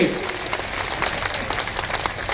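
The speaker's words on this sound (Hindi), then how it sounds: "स्वागत अभिनंदन तालियों से स्वागत करेंगे।" Crowd applause welcoming the deputy chief minister at an election rally in Chhattisgarh, steady clapping with an amplified voice speaking over it.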